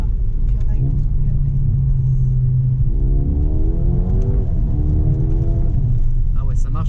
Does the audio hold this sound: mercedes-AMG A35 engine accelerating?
yes